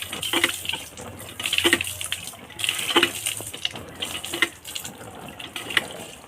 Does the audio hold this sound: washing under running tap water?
yes